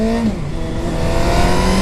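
A 2008 Suzuki GSX-R 750 motorcycle engine revs through its stock, tuned exhaust, a loud, close mechanical whine that dips and then climbs steadily, with no voices over it.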